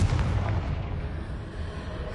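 A Confringo blasting spell goes off in Hogwarts Legacy, a deep booming explosion that starts loud and trails into a rumbling decay, close and alone.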